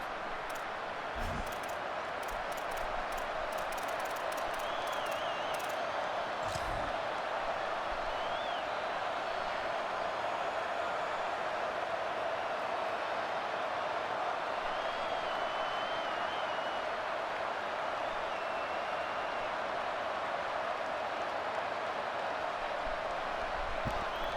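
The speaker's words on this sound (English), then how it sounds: "This crowd ready to make its presence known." Stadium crowd noise from a Madden NFL football game forms a steady, dense roar that fills the whole stretch, with a few faint thuds and whistles.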